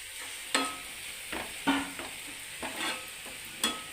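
Fried bitter gourd is scooped and stirred in a pan, a ladle scraping and clacking in separate strokes over a faint, low sizzle, with no voices.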